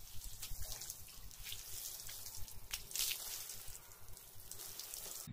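Water is poured or sprayed over a nameko mushroom log raft bed set in loose compost, giving a soft, steady splashing and dripping hiss that stays fairly quiet and unbroken, with no voices.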